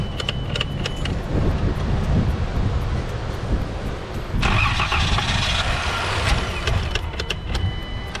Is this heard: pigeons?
no